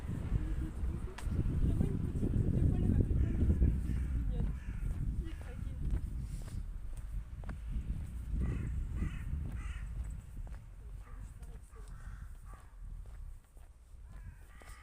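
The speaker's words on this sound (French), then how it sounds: "Eh, eh, c'est les corbeaux, c'est parce que c'est le soir d'Halloween." Crows cawing on a Halloween evening outdoors, repeated harsh calls from a moderate distance over footsteps, a low rumbling background and occasional talk.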